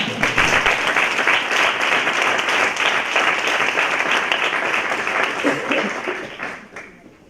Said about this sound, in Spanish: Deberíamos darle un aplauso a Héctor.